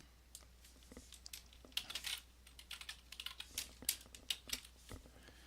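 Someone types on a computer keyboard to correct a password, with irregular bursts of quiet, close key clicks that grow busier toward the middle and have no voices over them.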